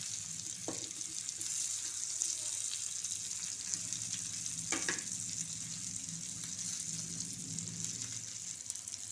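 Stuffed eggplants roasting in a pan, a faint, steady low sizzle with an occasional soft scrape or tap, quiet and continuous.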